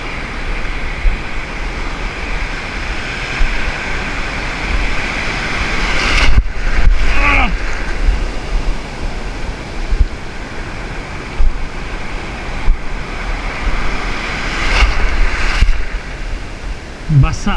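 Steady roar of surf and large wind-blown waves at Siargao fills the clip, with a few louder thumps and gusts, close and continuous.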